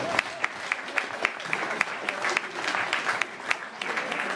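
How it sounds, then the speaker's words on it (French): Audience applause at an outdoor rally gathering at a château, an even patter of many hands with a few louder individual claps standing out, fairly close and sustained. "on va vous applaudir et vous vous applaudissez vous-même"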